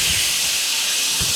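Loud, steady hissing sizzle from a hot frying pan heating up on the stove for a fried egg, a continuous close crackle with a couple of low bumps.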